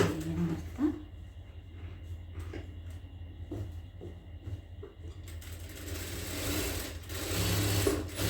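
A sewing machine stitching a travel bag runs with a steady mechanical whir and rhythmic ticking, growing fuller and louder toward the end.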